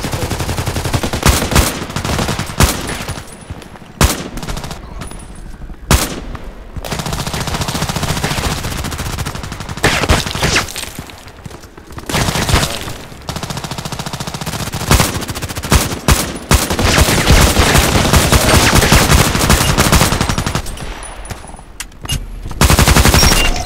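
Gunfire in the Contract Wars shooter game, loud repeated bursts and single shots in rapid succession across the whole stretch, with brief pauses between volleys and no talking.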